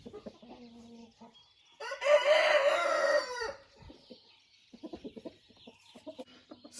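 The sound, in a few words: hen clucking in an enclosure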